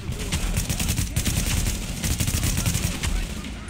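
Dense, rapid gunfire in a firefight in the video game Tom Clancy's The Division, loud and continuous with shots overlapping in a fast rattle, a sniper among the shooters, and speech faintly underneath.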